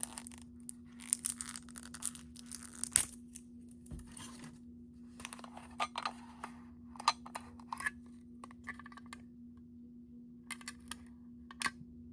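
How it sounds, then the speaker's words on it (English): Plastic packaging being torn and peeled off, scattered crinkly rips and crackles in short bursts with quiet gaps between, close and fairly faint over a steady low hum. "If I can get the rest of this plastic off."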